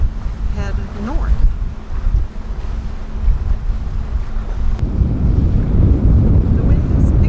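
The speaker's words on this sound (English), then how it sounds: "The wind is picking up." Wind gusting and rushing around a trawler cruising through Decision Passage in Alaska, a steady broadband roar with engine and water noise underneath, growing louder and rougher in the second half; a brief voice is heard early on.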